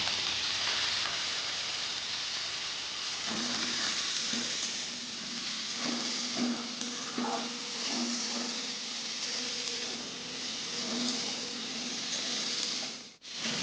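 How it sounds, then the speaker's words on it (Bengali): Pointed gourd (potol) fries in a kadai with salt and turmeric, a steady, close sizzle of hot oil with occasional stirring scrapes running throughout, no voices. "পটলগুলো ভালো করে ভাজা হয়ে গেছে"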